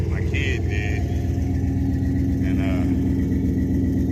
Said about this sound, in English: Let the truck warm up.